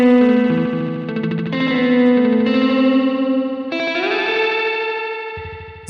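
An electric guitar plays sustained notes through a TC Electronic delay pedal set to many repeats, each note followed by dense, fluttering repeats that blur into a strange, swirling wash.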